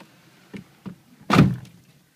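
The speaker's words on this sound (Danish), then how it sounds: "Så man ser, at døren går fint op." A car door on a crash-damaged vehicle being opened, two light clicks of the latch and handle followed by a louder, hollow thunk as the door swings open, close by with no talking.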